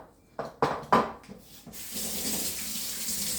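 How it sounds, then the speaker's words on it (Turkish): A running faucet pours into a sink during home burger and meatball cooking, a steady close water hiss following a few handling knocks and splashes at the start, with no talk. "Ben hemen elimi yıkayıp geliyorum."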